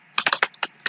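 Quick bursts of typing on a computer keyboard while entering a filter term into a web page, about seven crisp close key clicks in an uneven rhythm with short gaps.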